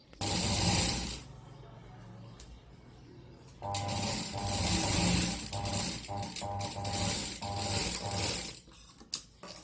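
A sewing machine stitches the sides of a handbag in two long runs of rapid, rattling mechanical chatter, separated by a short quiet pause, heard up close.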